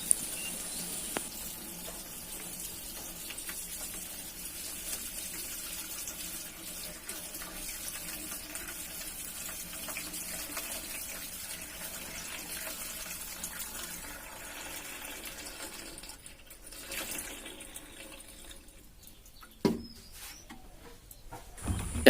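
Water from two jugs pours into a homemade DC 12 volt air cooler in a long, steady stream, then stops near the end with a few knocks and splashes.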